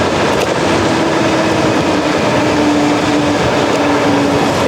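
A 72v EGO Power+ electric mini bike with a hub motor accelerating hard, a loud steady rush of wind and road roar with a faint rising whine running throughout, close and continuous.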